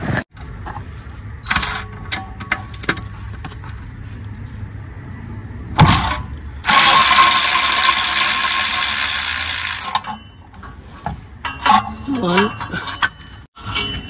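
Tools clink and scrape against metal while 14 mm bolts are worked loose during a Peugeot 107 clutch job, with sharp intermittent metallic knocks, a long rattling burst mid-clip and brief voice sounds in between.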